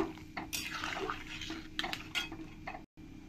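A spoon stirs salt and turmeric into a pot of tangy mango and puti fish curry, cooked village style, with close metallic clinks and scrapes in an uneven rhythm and no talk.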